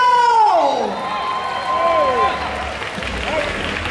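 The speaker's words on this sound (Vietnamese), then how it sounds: "Vỗ tay đi nào!" Crowd at a Vietnamese MMA cup fight clapping and cheering, a mixed roar of voices and applause with high shouts and whistles rising over the noise, loud at first and then settling into a steady din.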